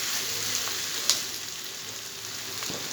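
Soya bean chili frying in a pan while being stirred, a steady close sizzle with a few light scraping clicks of the spoon, continuous and fairly quiet with no talk.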